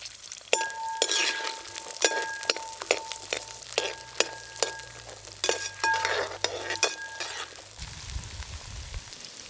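Half a kilo of shallots and three sprigs of curry leaves sauté in sesame oil for country chicken chinthamani. A close sizzle runs under rhythmic spoon strikes and metallic clinks against the pan, ending in a deeper rumble.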